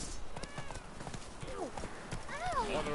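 Roach, a horse in The Witcher 3, gallops with quick rhythmic clip-clop hoofbeats and a couple of whinnies, mixed with game music and voices.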